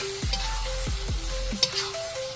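Marinated pork liver frying in a hot pan, with a steady sizzle running throughout and a few scraping stirs of a utensil breaking through the hiss.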